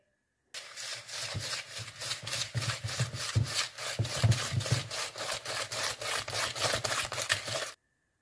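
Eggs and sugar are whisked together in a bowl for blueberry muffin batter, a steady, rapid, close scraping rhythm of the whisk that runs for about seven seconds with no talk.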